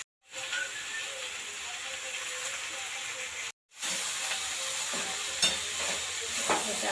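Vegetables with salt in fish oil frying and being stirred in a pan, a steady close sizzle and hiss with scraping stirs, broken by a brief silence before the sizzling resumes louder.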